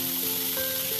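Food fries in a pan with a continuous, close, broadband sizzle and no speech.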